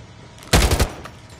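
Gunfire in the mobile shooter Call of Duty Mobile: a short, loud rapid burst of several shots lasting about a third of a second, with quieter game ambience before and after.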